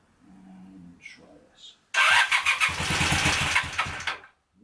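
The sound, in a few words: motorcycle engine starting with choke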